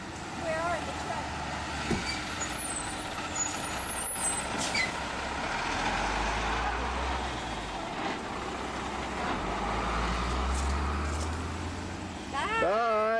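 Heavy trucks roll past with deep low rumble and hissing air brakes, engine noise swelling around the middle and late parts, while people talk nearby throughout.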